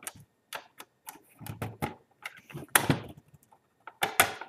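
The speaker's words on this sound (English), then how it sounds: "Get the credit card in." A credit card pries at the plastic casing of a Western Digital external hard drive, producing sharp, close clicks and cracking snaps in irregular bursts separated by brief silences.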